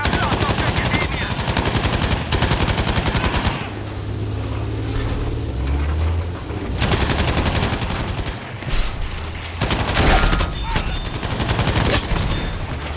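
Sustained bursts of machine gun fire in the World War II shooter Battlefield V, loud and close, in long rapid strings broken by a few seconds of engine and ambient battle noise before firing resumes.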